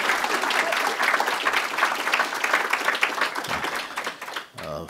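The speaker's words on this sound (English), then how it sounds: "We should give her a big round of applause." A roomful of people applauds for Fran Pavley at a green economy business event, dense sustained clapping that stays loud for several seconds before tapering as a voice begins.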